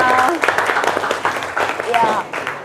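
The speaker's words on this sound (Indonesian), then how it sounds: "Oke, semuanya tepuk tangan untuk kita semua." Children in a classroom clap together briefly, quick uneven claps mixed with chatter and voices over the top.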